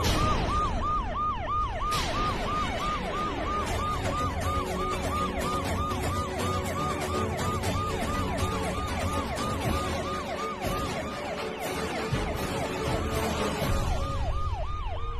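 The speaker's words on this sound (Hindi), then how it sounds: "सायरन की आवाज आ रही है, पुलिस किसने बुलाई?" An emergency siren wails continuously in a repeating rising and falling cycle, loud and close, over road and vehicle noise with no talking.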